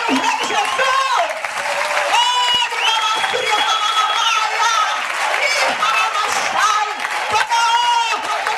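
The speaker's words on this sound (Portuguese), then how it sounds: "Aplaude o Rei Jesus!" A church conference audience breaks into loud, sustained applause, the clapping continuous throughout while voices call out and sing over it.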